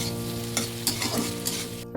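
Tomatoes sautéing in a pan, making a steady close sizzle with a few short scraping strokes as they are stirred, with no voice.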